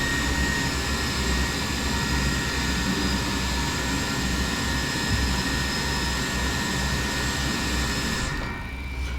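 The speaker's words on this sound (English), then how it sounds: "Alright, and here we go. That's two good engine starts." Boeing 737-300 jet engines spool up in a flight simulator, giving a loud, steady turbine roar with a high whine that continues throughout and dips briefly near the end.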